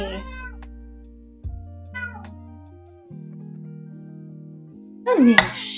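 A cat meows several times indoors, close and clear, in short rising cries spread across the moment, with soft background tones and a louder final yowl.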